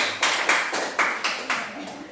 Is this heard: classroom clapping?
yes